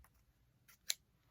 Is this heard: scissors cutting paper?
yes